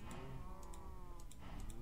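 A cow mooing in Minecraft, a drawn-out low moo heard close and fairly soft, with faint clicking in the background.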